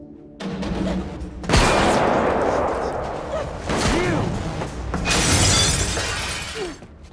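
Gunfire in a film scene, sudden loud bursts with shattering impacts and crashes, several distinct blasts spread across a busy, noisy action soundtrack.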